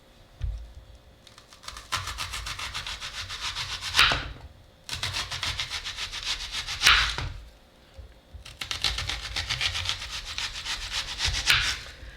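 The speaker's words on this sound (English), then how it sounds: "then we're gonna cut it into 1-inch thick slices" Kitchen knife slicing a large peeled onion into thick one-inch rings, heard as three close bursts of crisp crunching strokes, each ending in a sharp chop, separated by brief pauses.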